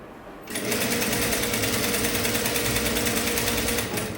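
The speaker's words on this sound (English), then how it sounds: "During the process of sewing, you don't need to pull or stretch anything." A sewing machine stitches fabric for a sleeveless top in one continuous, rapid, even rattle close by. It starts after a brief quiet moment and runs loud and steady to the end.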